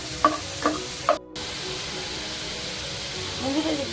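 Sliced onions fry in hot oil for beresta, a dense continuous sizzle close up, with a few light stirring clinks early on and a brief dip in the noise partway through.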